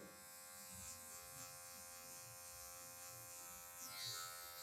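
Electric hair clippers buzz steadily with a tonal hum while trimming a taper fade using only the blade tip, with faint shifts as the blade touches hair and no speech.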